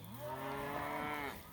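A cow in a grazing herd on a Missouri farm lets out one long, drawn-out moo on a fall morning, heard at a moderate distance over quiet surroundings.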